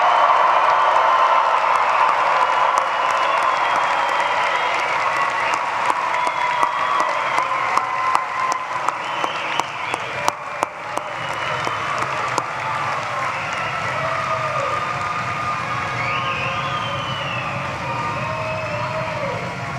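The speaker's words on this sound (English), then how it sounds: "I want you to make as much noise as you want to make right now and congratulate the class of" At a 2023 commencement ceremony in Gentile Arena, a large graduation crowd keeps up loud applause and cheering for the class of 2023, with whistles, shouts and sharp claps echoing through the hall.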